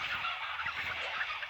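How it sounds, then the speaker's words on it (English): Video-game chickens clucking and squawking in short, busy bursts over a hissy background, moderately loud with no talk. "Hey, I love chickens."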